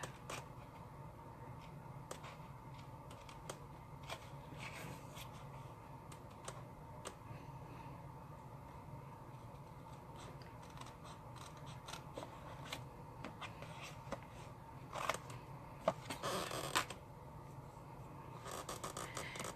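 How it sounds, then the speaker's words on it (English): Scissors snip through patterned paper in small, irregular clicks and crisp cuts, quiet and close, as a card-making shape is fussy cut, with a louder rustle of paper near the end. "I'm now going to use my scissors and fussy cut out the gingham jar top"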